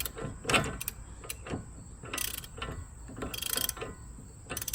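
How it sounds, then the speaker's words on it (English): A regular ratchet works a 36 mm front axle bolt loose on a 2008 Pontiac G6 2.4 L four-cylinder, giving bursts of quick metallic clicking in several short runs with pauses between, close and moderately loud. "I've got this on a regular ratchet, and I'm going to go ahead and take it off"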